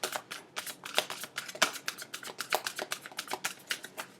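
Tarot cards are shuffled up close, producing a quick run of crisp riffling and flicking bursts in an uneven but steady rhythm, with no talking.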